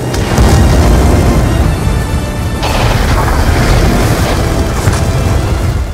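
Rocket strafing run from an air support call in Black Ops 2 produces dense, continuous booming explosions, loud and close, with rumbling low blasts rolling over one another for several seconds.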